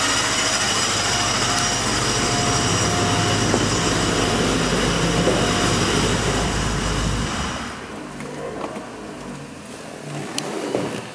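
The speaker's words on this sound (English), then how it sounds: "Air compressor pumps making a little bit of noise, but they're always pretty noisy." A 1953 Oldsmobile Holiday 88 coupe with a 400 engine idles with a loud, steady roar, while its air compressor pumps add a whirring drone. The sound drops off sharply near the end, leaving quieter scattered clicks.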